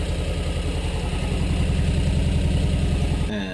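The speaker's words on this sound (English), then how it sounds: "I let the car sit for about a minute and it idled completely smoothly without dying" The engine of a 1975 VW Brasilia idling smoothly, a steady close rhythmic chug that holds even throughout before easing off at the very end.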